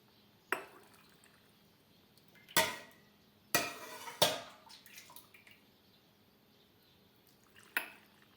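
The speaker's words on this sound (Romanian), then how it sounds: "Apoi acoperim gogoșarii cu lichidul fierbinte." Hot pickling liquid with mustard seeds and peppercorns is ladled over gogoșari peppers packed with a celery leaf and horseradish in a jar, giving a few sharp, spaced clinks and short splashy pours, fairly close, with no talk.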